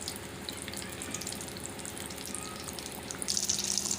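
Samosas deep-frying in oil over medium to low heat give a steady, soft bubbling sizzle throughout, swelling slightly louder near the end.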